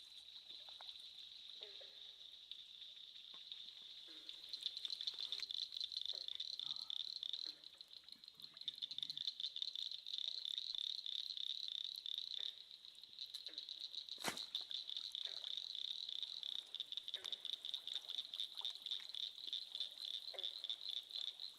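Dense chorus of frogs at night by a mountain stream during frog gigging, a continuous pulsing trill, faint and steady throughout, with water trickling underneath.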